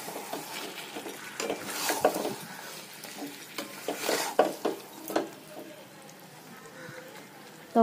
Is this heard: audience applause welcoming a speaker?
no